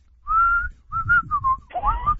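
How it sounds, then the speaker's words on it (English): Someone whistles a short catchy tune, a few clear sustained and bending notes in close succession, alone and near. "You whistle it after a while"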